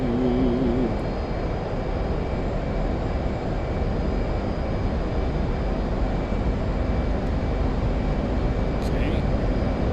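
F/A-18 Hornet jet engines roar loud and constant during takeoff in DCS World flight simulation, a dense unbroken broadband rush with a faint high whine layered above and a short voice near the start.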